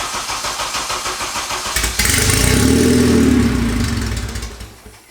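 A Honda K24 engine swapped into an EK coupe cranks with a rapid starter whir, then catches and fires up, roaring to a loud, steady idle that settles and fades slightly at the end.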